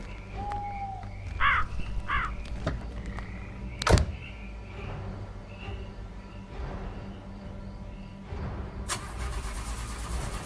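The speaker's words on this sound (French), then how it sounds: "la voiture qui démarre pas" In a video game, a car engine cranks repeatedly but fails to start, set among a tense night-time soundscape with caw-like bird calls and a sharp thump.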